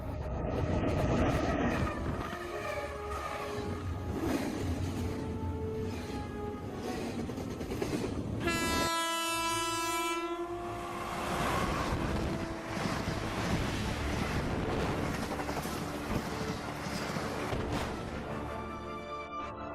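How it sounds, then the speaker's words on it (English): A cargo train rushes past at speed, a steady loud rumble with wind buffeting the microphone, and a bright horn-like tonal burst sounding briefly midway before the roar continues. "See the swiftness of the cargo train?"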